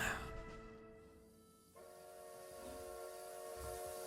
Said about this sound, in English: now that very long train ride is over